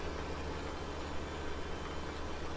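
A tractor engine idles steadily in Farming Simulator 17, a low continuous rumble with a faint knocking pulse, holding an even level throughout with no voices.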